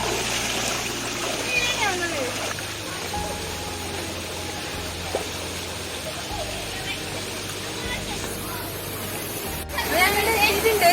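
A waterfall in Kasaragod rushes and splashes steadily nearby, a constant wash of falling water with people talking over it throughout.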